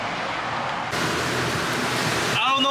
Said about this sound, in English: it just started pouring out of nowhere. It is so loud here in the back of the truck.